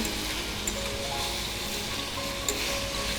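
Steady, even sizzle of a prawn and egg mixture frying in a pan with garlic paste, a continuous hiss at moderate level with no talking.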